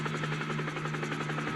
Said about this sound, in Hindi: देखो वहाँ पर कितना बड़ा हेलीकॉप्टर है